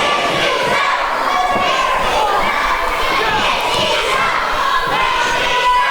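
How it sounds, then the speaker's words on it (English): A wrestling arena crowd shouts and roars continuously during a women's match, a dense loud wall of voices with a commentator talking over it. "This crowd letting her know what they think about it."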